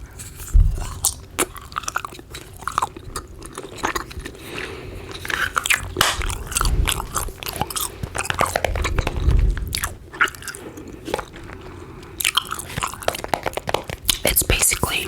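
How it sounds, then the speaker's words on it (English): Close, crisp chewing of a long strip of powdered gum, with wet clicks, crunches and squishes in an uneven rhythm, mixed with soft whispering and occasional crinkles. "I thought I could have this and do a gum chewing ramble"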